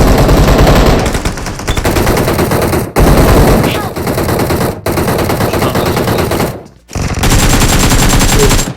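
Rapid automatic gunfire in a shooter video game, loud and sustained in long bursts broken by brief cuts, with excited talk faintly underneath.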